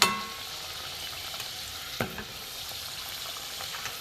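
Suji and flour snacks frying in hot oil, a faint steady sizzle with a couple of soft clinks and scrapes from a utensil, close but quiet, without talk.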